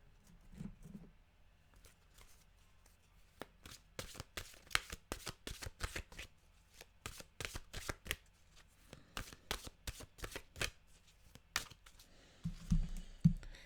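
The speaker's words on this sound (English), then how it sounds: "we'll get our mantra cards out here" Mantra cards are shuffled by hand in a quiet room, giving a rapid series of crisp riffling slaps and flicks in bursts, close and fairly soft.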